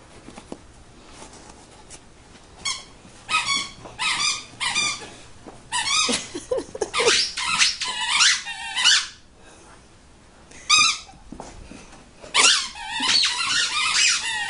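A dog plays with a squeaky toy, making bursts of sharp, rapid squeaks close by, with pauses between clusters and soft rustling in the gaps.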